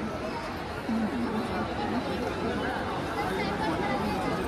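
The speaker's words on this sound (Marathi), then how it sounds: "भयंकर गर्दी." Dense crowd at the Shirdi Sai Baba temple, a steady wall of overlapping chatter and murmuring voices close around, with no break throughout.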